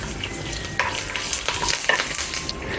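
Spices, curry leaves and red chilies crackle and sizzle steadily in hot oil for tempering, close and loud, with occasional stirring scrapes and no talking.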